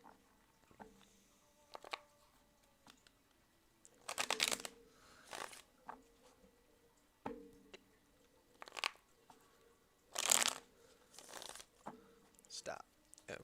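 Tarot cards shuffled by hand in a sequence of brief riffling and crinkling bursts spaced a few seconds apart, close and fairly soft, with quiet gaps and faint background sound between them.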